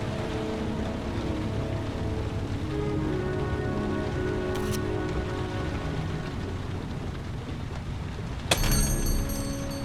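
Steady rain pours in the Heavy Rain video game, a dense continuous patter filling the scene, with a faint high tone and a brief sharp burst near the end over the downpour.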